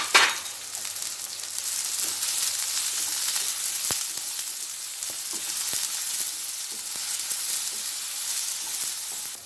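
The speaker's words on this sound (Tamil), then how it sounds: "இப்போ இதோட இந்த தேங்காயை போட்டு வதக்குவோம்." Grated coconut sizzles and fries in ghee in a pan for a village-style mutton curry, a close, steady hissing crackle that runs continuously and fairly loud with no talking.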